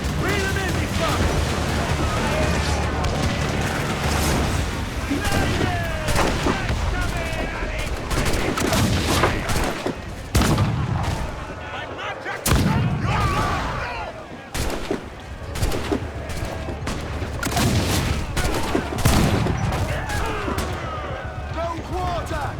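Ship cannons and gunfire in a naval battle in Assassin's Creed IV Black Flag: dense, loud booms and crackling volleys rolling continuously, with shouting voices mixed through the chaos.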